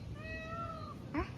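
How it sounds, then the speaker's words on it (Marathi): A peacock calls near a hilltop Mahadev temple in Amravati at dusk, a drawn-out wailing cry held for about a second, then a shorter sharp call at the end, over a low steady outdoor rumble. "मोरांचा पण आवाज येतो इकडे"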